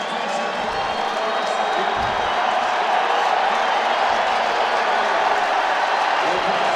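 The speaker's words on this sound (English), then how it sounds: "they are now applauding the impending insertion into the match of Diego Valeri" Over 13,500 soccer fans fill a stadium for a Portland Timbers versus San Jose Earthquakes match, applauding and cheering as a steady, dense roar of crowd noise with a commentator talking over it.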